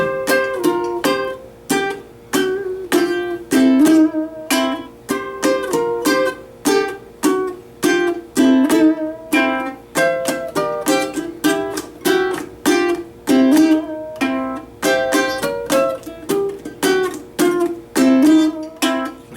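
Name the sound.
chords played with a finger brace strum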